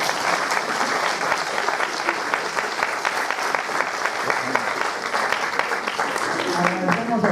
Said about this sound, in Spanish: Brindémosles un aplauso nuevamente